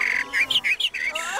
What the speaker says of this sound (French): on écoute le chant des petits oiseaux